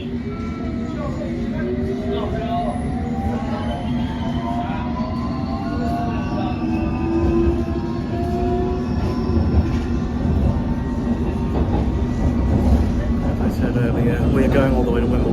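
A London train sits at East Putney station, its loud steady rumble joined by gliding tonal motor whines, while a public-address voice talks over it.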